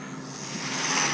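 A Losi Mini B RC speed-run car screams at full throttle, a rising high-pitched electric whine that grows louder as it nears, with no voices.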